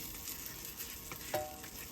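A little butter sizzles in a pan before crêpes are cooked, giving a steady, close, crackling fry with a brief faint tone partway through.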